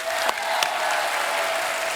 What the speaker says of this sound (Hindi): सो जोरदार तालियां बनती हैं।